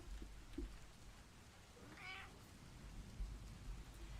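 A single drawn-out cat meow near the middle, faint and fairly close, over a low background murmur that sounds like rain, with no talking.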